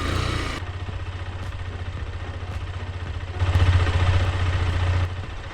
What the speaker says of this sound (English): It is ticking over.